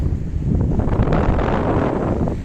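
Sea breeze buffeting the microphone on a fine-sand beach of a small island in Urla, a steady roaring wind rush with low rumbling gusts, loud and continuous with no talk.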